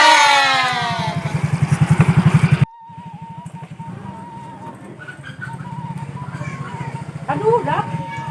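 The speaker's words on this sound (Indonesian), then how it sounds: "Kayak suara motor saya." A motorcycle engine putters with a steady low pulsing beat, loud at first and then cut off abruptly before idling on more quietly, with faint voices and outdoor sounds around it.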